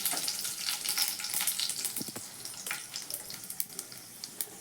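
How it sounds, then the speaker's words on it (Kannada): Chana dal, mustard seeds and dry red chillies sizzling and crackling in hot oil for a buttermilk sambar tempering, with steady frying hiss, sharp scattered pops and a few stirring scrapes close up. "ಸ್ವಲ್ಪ ಕಡಲೆಬೇಳೆ ಹಾಕ್ತಿದ್ದೀನಿ, ಸಾಸಿವೆ ಹಾಕ್ತಿದ್ದೀನಿ 1 ಸ್ಪೂನಷ್ಟು, ಒಂದೆರಡು ಒಣಮೆಣಸಿನ್ಕಾಯಿ ಹಾಕ್ಕೊತಿದ್ದೀನಿ."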